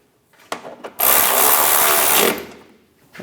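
A ratchet wrench tightening headlight bolts on a 1997-2001 Honda CR-V, heard as a close, sustained run of rapid mechanical clicking lasting over a second, preceded by a couple of short knocks and then fading out.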